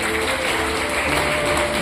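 An audience applauds at a college cheque distribution programme as a student receives her cheque, a dense, steady wash of clapping with no break, close and moderately loud.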